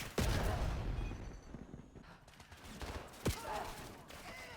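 Dual akimbo fire shotguns blast in Call of Duty, with a sharp shot at the start and another a few seconds later over a steady rumble of continuous gunfire and battle noise.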